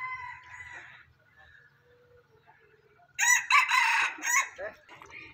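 A chicken calls out loudly in a burst of clucks and squawks after a stretch of quiet murmuring and faint background noise.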